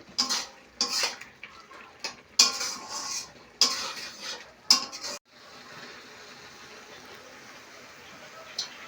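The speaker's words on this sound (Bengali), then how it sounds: "বারবার নাড়তে থাকতে হবে" A carrot barfi mixture is stirred in a pan: several sharp scraping, clanking strokes of a spoon against metal, then a softer, steady hiss from the cooking sweet.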